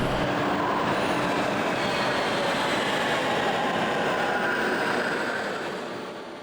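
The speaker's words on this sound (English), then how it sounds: "We boarded Line 1 on the metro at Grønland" An Oslo metro Line 1 train rides along the rails with a steady rumbling roar, heard from inside the car, fading slightly toward the end.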